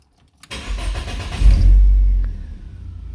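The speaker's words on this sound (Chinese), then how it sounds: "啊，我们现在先发动，" Car engine cranking and catching after a sharp click, rising to a loud rumbling idle that briefly revs and then settles, heard up close with no talking; the car is running on gasoline stored for four years.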